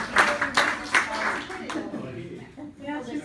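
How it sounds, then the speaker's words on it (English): Brief clapping from a small family group after the cake is cut at a parents' anniversary surprise, scattered claps over the first couple of seconds with voices talking around them. "Round of applause if finally cut the cake."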